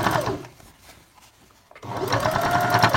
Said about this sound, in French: Et je pique tout autour.